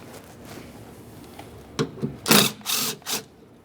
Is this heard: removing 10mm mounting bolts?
yes